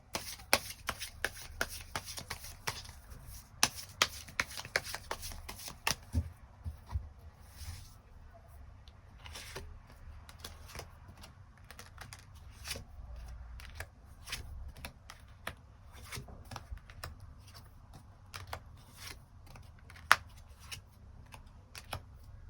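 Tarot cards being shuffled before extra cards are drawn: a quick run of crisp riffling clicks and taps, close and soft, continuing in bursts with brief pauses between them.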